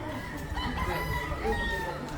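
Gamecocks crow and cluck at a crowded fighting-cock farm during a farm expo, overlapping calls continuous through a dense ambient background with faint voices mixed in.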